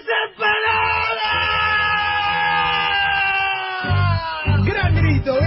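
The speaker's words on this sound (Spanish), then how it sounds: "Gran grito, gran grito. Murió, excelente grito. Se caía de un precipicio" A loud, sustained scream of despair like someone falling off a cliff, held for several seconds close up, with brief background noises toward the end.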